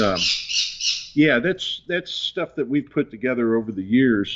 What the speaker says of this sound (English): I'm sorry about the birds in the background.